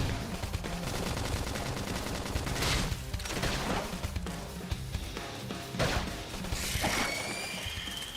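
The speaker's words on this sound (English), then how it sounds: "Topple him with some gunfire!" Rapid bursts of gunfire in Xenoblade Chronicles X rattle alongside clanking mechanical sounds, loud and dense throughout, with a sharp electronic whine near the end.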